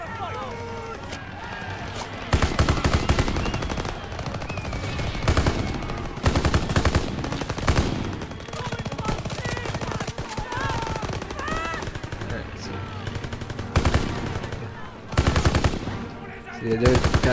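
A BAR automatic rifle fires in bursts during a Call of Duty WWII campaign battle, loud rapid gunfire recurring over dense combat noise and other weapons.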